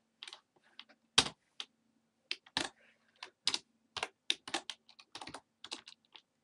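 Typing HTML code on a computer keyboard: sparse, crisp key clicks in irregular short clusters with brief pauses between them, close and fairly quiet, with no voices.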